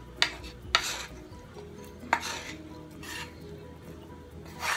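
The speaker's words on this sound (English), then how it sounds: "we're going to get all this mixed up" A spoon stirs corn through a one-pot chicken sausage mac and cheese goulash, scraping the pot in several distinct knocks and rubs over a soft, steady cooking hiss.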